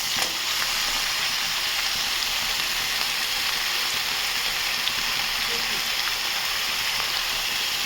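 Pumpkin stalks sizzle steadily in a hot pan, a continuous bright frying hiss with faint stirring scrapes, close and fairly loud throughout.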